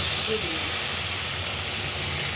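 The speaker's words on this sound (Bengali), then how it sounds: "এই তেলের ভিতরে আমি কালো জিরে ফোড়ন দেবো দুটো কাঁচা লঙ্কা দেবো" Black cumin and two green chillies dropped into hot oil for a parshe fish curry, giving a loud, dense, unbroken hiss and sizzle up close.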